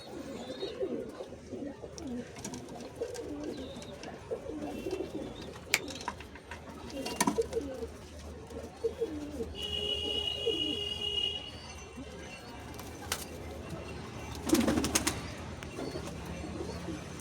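Pigeons in a loft of paired adult Giribaz birds coo softly and intermittently beside faint chirps and low room noise, with no talk over them.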